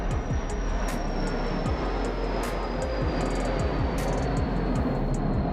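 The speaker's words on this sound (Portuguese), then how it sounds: "Passando um avião aqui." An airplane passes overhead as a constant broad roar that fills the whole stretch at moderate distance, with faint scattered ticks and no talking.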